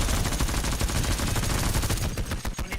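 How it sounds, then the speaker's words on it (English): Rapid, sustained automatic gunfire from a whole magazine being emptied in a first-person video game, loud and dense for about two seconds before tapering off into a few scattered final shots. "I dumped a whole mag and bro didn't even die"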